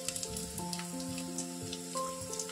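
Ginger garlic paste sizzles in hot oil for a Hyderabadi chicken dum biryani, a soft continuous hiss with faint crackles beneath sustained background music.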